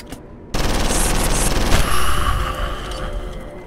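Rapid gunfire from a gun in the horror video game Condemned: Criminal Origins, a loud sustained burst of shots starting abruptly after a quiet moment and continuing steadily before tapering slightly.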